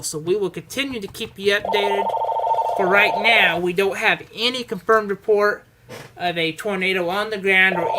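A telephone rings in a TV weather studio during a tornado warning broadcast, two steady electronic ring bursts sounding beneath a forecaster's continuous talking.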